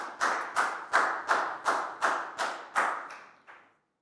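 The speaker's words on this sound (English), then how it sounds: "a big round of applause for Pak Bung, please, guys." Eight or nine slow, evenly spaced claps ring out for a student in a class, each a sharp broadband hit with a short decay, the last one fainter, and no talking over them.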